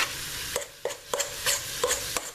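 Ground beef cooking in a skillet in its own fat with no added oil, a low sizzle under a run of quick, evenly spaced spatula scrapes and taps close by.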